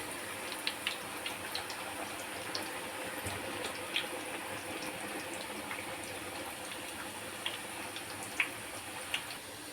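Millet tuber chips dropped into hot oil bubble with a continuous faint hissing fry, dotted with small pops and crackles, heard close and alone without voices.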